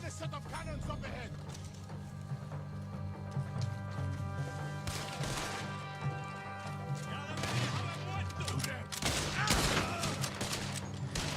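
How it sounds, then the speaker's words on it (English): Cannon fire in the video game Red Dead Redemption 2, several heavy booming blasts spread through a continuous bed of game noise and music, with a voice talking over it. "There's another set of cannons up ahead."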